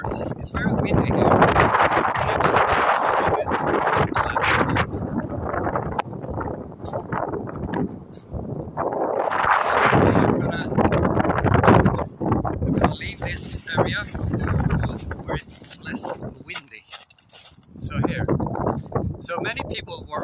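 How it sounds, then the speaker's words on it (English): Heavy wind buffets the microphone in loud rumbling gusts, with a person talking underneath throughout. "It's very windy here."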